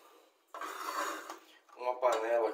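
A cooking pot taken out for making risotto in a home kitchen, clattering and scraping with metallic knocks in two short bursts, with a voice speaking in the background.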